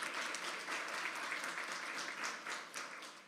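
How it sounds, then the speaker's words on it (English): An audience at a school district scholars signing day applauds in a sustained, moderately distant burst of clapping that stays fairly even before easing slightly at the end. "Please give her another round of applause."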